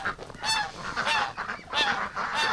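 A goose honks repeatedly in a farmyard flock with Muscovy ducks in winter, a series of moderately loud nasal honks at medium distance, with no talking.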